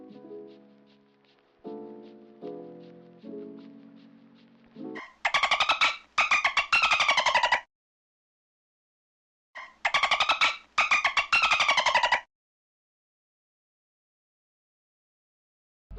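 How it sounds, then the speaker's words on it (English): A dolphin sends out two bursts of rapid, high, chattering whistles and pulsed squeaks after a brief musical intro, with silence between and after the bursts. "This is a dolphin."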